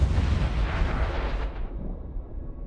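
Heavy cannon fire in an Endless Space 2 space battle, a dense, loud barrage of booming blasts that rumbles on for two seconds, then thins to a fainter low rumble.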